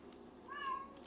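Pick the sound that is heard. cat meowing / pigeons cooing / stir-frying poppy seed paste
cat meowing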